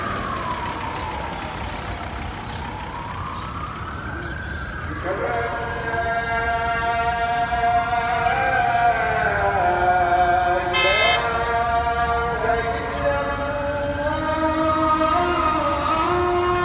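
Evening call to prayer from a mosque loudspeaker in Turkey near Aydin, a loud, sustained melodic voice with long wavering phrases carrying steadily through the air.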